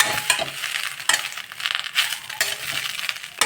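Drumstick leaves dry-roasting in a pan, crackling and rustling under a stirring spoon, with sharp scrapes and clinks against the metal, loud and close and steady throughout.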